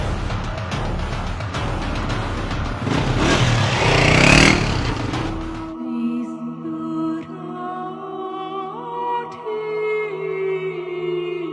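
A motorcycle engine roars loudly and steadily for several seconds, then cuts off abruptly and music takes over.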